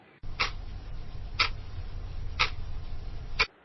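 A wall clock ticks in a Hindi radio drama: four crisp, isolated ticks fall about one second apart over a low hum, with no voices.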